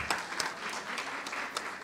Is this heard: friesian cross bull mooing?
no